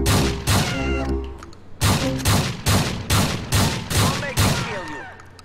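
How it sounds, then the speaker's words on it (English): Rapid blasts of shotgun fire in the video game GTA IV, about six or seven loud, evenly spaced booms with short ringing tails, overlapping game sounds and brief voice. "I got me a shotgun."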